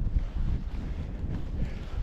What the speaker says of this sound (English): It's a bit more breezy today, a little bit more windy.